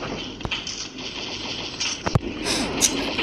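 Gunfire in the video game Pixel Gun 3D pops out in a few sharp isolated shots over steady background engine-like noise and game effects.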